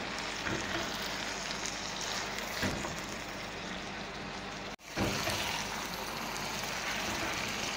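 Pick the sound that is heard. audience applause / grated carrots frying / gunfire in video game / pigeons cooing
grated carrots frying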